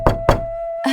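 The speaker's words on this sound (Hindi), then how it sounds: "तभी दरवाजे पर फिर दस्तक हुई।" Two sharp knocks on a wooden door ring out close and loud in quick succession, followed by a brief tonal sound as the narration resumes.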